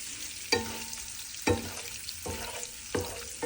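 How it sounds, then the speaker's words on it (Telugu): An egg fries in a pan for a packed lunch, giving a steady close sizzle with a few sharp utensil clicks and scrapes spaced through it. "ఈరోజు క్యారేజ్కి ఎగ్ వేగింది"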